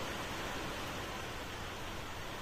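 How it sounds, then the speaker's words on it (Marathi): Heavy rain falling in a steady, dense hiss, broad and unbroken, quiet and even throughout with no voices. "मस्त पाऊस आलाय जोरात"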